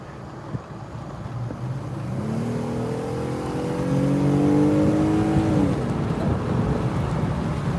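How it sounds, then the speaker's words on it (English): A car drives along the interstate through Washington State, its steady engine and road noise heard from inside the cabin, with a rising drone about halfway through. "we are now driving through Chehalis on our way to Centralia"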